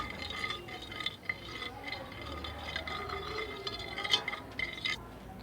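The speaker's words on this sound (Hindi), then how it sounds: "एक चम्मच ईस्ट डालूंगी और इनको अच्छी तरह मैं मिक्स कर लूँगी।" A spoon stirring a spoonful of yeast into dough ingredients in a bowl for homemade pizza, giving soft scraping and light clinks against the container, steady and close throughout.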